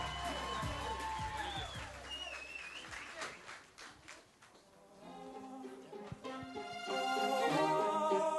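An audience at a party applauds and cheers: crowd noise and clapping swell over music, fading midway before a louder surge near the end, with a voice talking over it.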